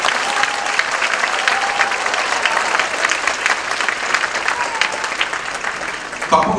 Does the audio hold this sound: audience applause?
yes